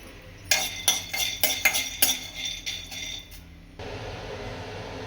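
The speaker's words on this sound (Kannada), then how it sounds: "ಶೇಂಗಾ ಹಾಕೊತಾ ಇದ್ದೀನಿ. ಇದನ್ನು ಡ್ರೈ ಫ್ರೈ ಮಾಡಬೇಕು, ಇದಕ್ಕೆ ಎಣ್ಣೆ ಹಾಕೋಂಗಿಲ್ಲ." Peanuts, dry chillies and curry leaves roast in a dry pan with no oil, making a burst of close metallic rattles and clinks as they are tossed. A steadier, softer hiss follows, and no one speaks.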